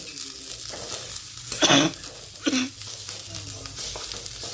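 Shallow-fried bitter gourd being stirred into a spice masala for a gravy, with a gentle sizzle and a couple of louder scraping stirs, close by.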